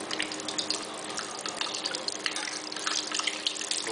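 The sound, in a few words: camembert piece frying in hot oil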